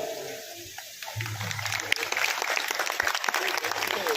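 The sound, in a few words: audience clapping at village program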